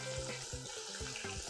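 Pieces of fish, Thai sea bass, deep-frying in enough oil to cover them, giving a steady close sizzle and crackle with bursts of bubbling throughout, no voices.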